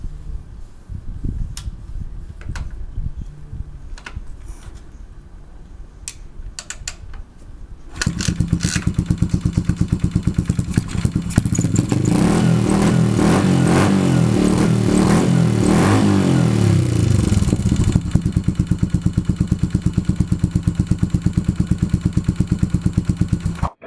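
Yamaha SR400 bobber with a SuperTrap exhaust, repacked and fitted with a changed end cap: after crackling and clicks, the single-cylinder engine fires up and idles loudly and steadily with a rapid popping thump, close by.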